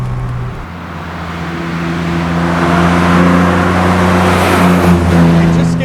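A Datsun 280Z hot rod's inline six-cylinder engine drones steadily from inside the car at speed, its tone swelling gradually under loud wind and road roar.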